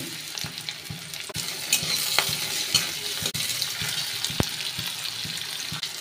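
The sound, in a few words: garlic and onion frying in oil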